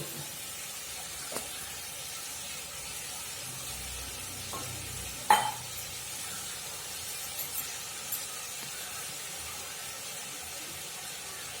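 Water poured into a hot pan of chicken spices (chilli and cumin powder) for a tamarind chicken curry gives a faint, steady hiss and sizzle with a few light utensil knocks, heard close with no one talking.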